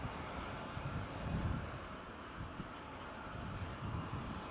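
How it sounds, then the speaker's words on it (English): WestJet airliner taxiing to its stand at Edinburgh Airport, a faint steady engine drone with wind noise, heard from a distance without voices. "So WestJet just taxiing in on stand 1."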